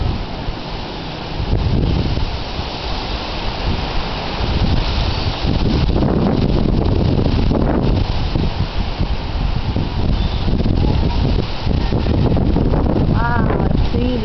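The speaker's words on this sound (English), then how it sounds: "Look at how much pressure that wind is giving on my tree." Strong wind gusting against a tree on a windy day, a steady broadband roar with rustling swells that stays loud throughout, with a brief voice-like sound near the end.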